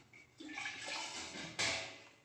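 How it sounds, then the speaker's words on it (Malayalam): Water pours into a cooking pan while jaggery is being melted, a soft, steady splashing rush lasting a couple of seconds that swells slightly just before it ends. "കുറച്ച് വെള്ളം ഒഴിക്കാം"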